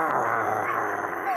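Low, rumbling growl from Bruno, a cartoon dog, held steadily for a moment amid a busy animated soundtrack.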